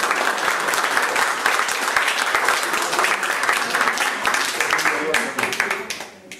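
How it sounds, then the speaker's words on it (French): Sustained audience applause at a commemorative gathering, many hands clapping in a dense, even stream that holds for several seconds and then fades out toward the end. "je crois qu'on peut applaudir."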